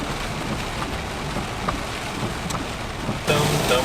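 Rain falls steadily on a car, a constant hiss of drops on the body that swells noticeably louder near the end.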